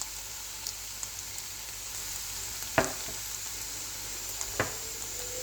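Chicken manchurian sauce with oyster sauce and pepper sizzles steadily in a pan, with faint soft taps and a couple of sharper utensil knocks against the pan as it is stirred.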